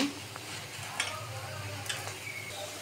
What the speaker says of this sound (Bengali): লাউয়ের তরকারি কষানো হচ্ছে